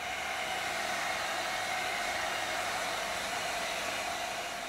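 A hair dryer blows continuously and steadily up close, heating a plastic wheel arch liner on a Dodge Grand Caravan, a loud even whoosh with no talking.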